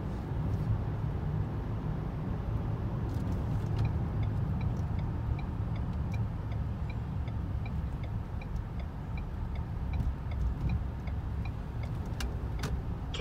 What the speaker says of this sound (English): Oh my gosh, look at that traffic.